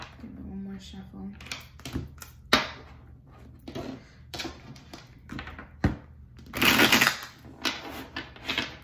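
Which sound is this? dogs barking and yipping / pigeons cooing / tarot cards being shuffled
tarot cards being shuffled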